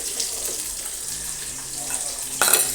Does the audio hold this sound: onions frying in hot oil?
yes